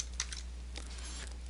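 Quiet, light clicks of keys on a computer keyboard, a few irregular taps with a low steady hum underneath.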